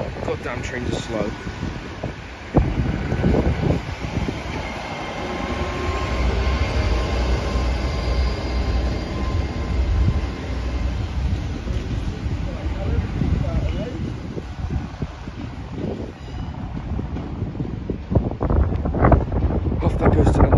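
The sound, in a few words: passenger train departing station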